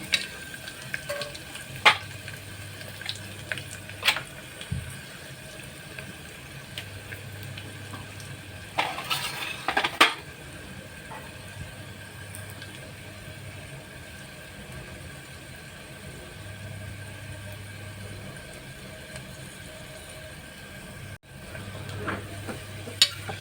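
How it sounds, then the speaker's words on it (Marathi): Cashews, almonds and raisins sautéing in a pan for narali bhat: a soft, steady sizzle with occasional scrapes and taps from stirring, close but low in level, with no voices. "काजू, बदाम आणि हे मनुका घेतलेले आहेत. सगळे चांगले परतून घेतले आहेत."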